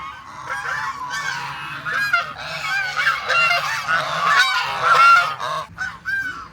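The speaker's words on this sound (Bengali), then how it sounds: "রাজহাঁসগুলো বিকালে ঘাস খাইতে বেরোয়ছে" A flock of domestic geese grazing on grass in the afternoon honk loudly and continuously, overlapping nasal calls close by that swell toward the end, with no talking.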